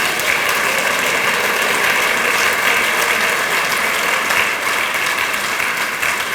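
A church congregation claps together during a Marathi Christian sermon, a dense, loud, steady wash of applause that holds evenly throughout with no voices on top.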